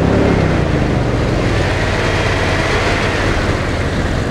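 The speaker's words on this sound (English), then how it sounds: "I'm going to increase the throttle." A car engine runs loud and steady with the headlights switched on to load the charging system. A broad, continuous roar fills the whole stretch with no clear pitch change.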